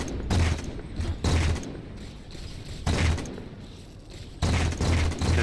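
Several heavy, booming sniper rifle shots ring out in the video game Halo 4, spaced a second or so apart, each with a sharp crack and a rumbling tail, with mechanical clicks between them.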